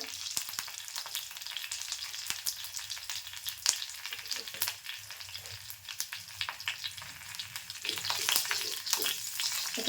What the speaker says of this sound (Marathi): आता मी कढीपत्ता टाकते आणि थोडासा हिंग